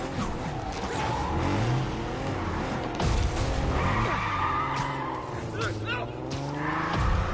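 Cars in the Spider-Man video game engine whine loudly. Tires squeal and skid amid a busy chase soundscape, and a voice speaks over it.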